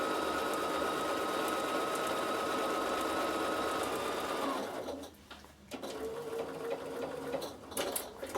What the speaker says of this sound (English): Just start sewing. It's going to knot off, then it's going to stitch down,